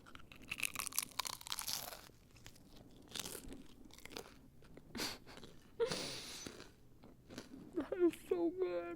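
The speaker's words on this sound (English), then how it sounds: "I'm gonna bite the side of it. It's gonna be crunchy." Someone bites into crunchy food and chews it close to the microphone, giving several sharp crunches and softer chewing sounds over about nine seconds, with brief voice-like noises near the end.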